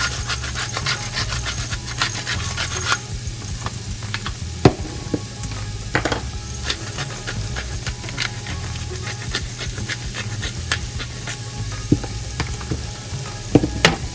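Garlic and white onion fry steadily in a pan with a dense, continuous sizzle, broken by a few sharp crackles and scrapes; no one speaks.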